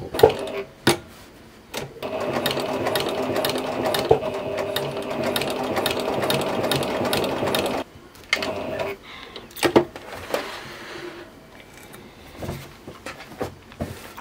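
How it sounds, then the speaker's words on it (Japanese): A sewing machine stitches a fabric neckline, a steady mechanical whir running for about eight seconds, then short stop-start bursts of stitching with pauses between them. "縫いながらもこう上布と下布をこう伸ばしつつ、こうシワにならないようにね"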